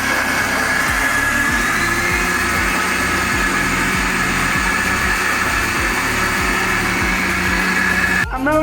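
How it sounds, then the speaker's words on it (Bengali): An electric mixer grinder whirs steadily as it blends soaked cumin seeds in a home kitchen, a loud continuous motor hum with rhythmic churning pulses, stopping abruptly near the end; no talking. "তো এখন ব্লেন্ড করে নেব।"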